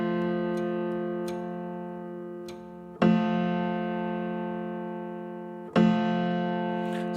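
Sustained piano notes sound together as a steady, consonant pure major third in meantone temperament, struck again twice and ringing out slowly between strikes.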